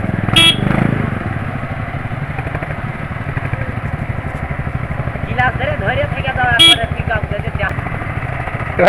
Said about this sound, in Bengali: সত্যি মারাত্মক আওয়াজ হচ্ছে বুলেটে